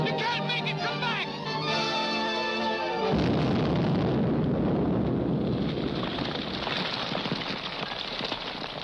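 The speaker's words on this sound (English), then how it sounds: "That explosion got Grogan, too." An explosion in a TV episode, set off by a fuse lit on a cart, erupts as a loud broadband blast after a musical passage and rolls on as sustained rumbling and crackling debris.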